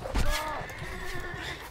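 A horse whinnies in the medieval combat game Mount & Blade: Warband, a loud neigh at the start fading into rising and falling calls, with speech over it.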